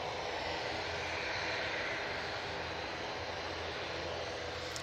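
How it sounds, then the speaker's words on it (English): An ATR turboprop airliner takes off using the full runway length at Manchester Airport, a steady, continuous engine roar heard from some distance, unbroken throughout with no voices. "the ATR is taking full length"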